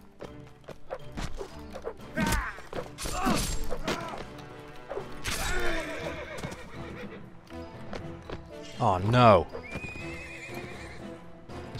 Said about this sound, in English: This horse is injured.